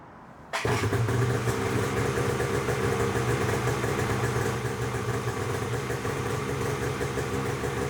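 A Polaris Axys snowmobile engine fires up abruptly after a brief quiet moment and settles straight into a steady, buzzing idle that stays loud and even to the end.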